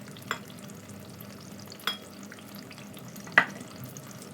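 Aubergine (brinjal) pakora frying in hot oil gives a steady soft sizzle, broken by three brief louder pops or stirring clinks spaced over a few seconds, with no talking.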